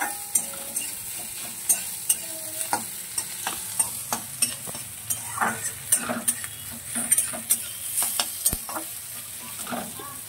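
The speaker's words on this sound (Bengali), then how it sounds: "পেঁয়াজটা লাল করে ভাজবো।" Onions fry in a pan for an egg and tomato mash, a constant close sizzle broken by frequent clinks and scrapes of a utensil stirring against the metal, with no voices.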